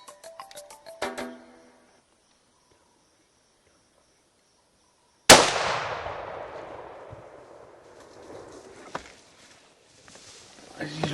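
A single sharp, loud gunshot cracks out during a hunt for an animal in the outdoors, its echo decaying slowly over several seconds amid quiet rustling, with hushed voices and insect chirps before the shot.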